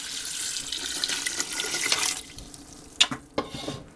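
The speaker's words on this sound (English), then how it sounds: "Only this time we're going to add 8 quarts of water" Eight quarts of water gush steadily into a pot, then cut off, followed by a couple of clanks and drips.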